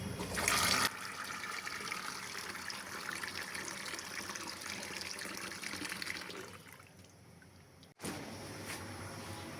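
Soaked chickpeas being washed in water, a steady splashing, running-water wash filling most of the stretch before it drops off, then a brief sharp clunk and a quieter watery tail.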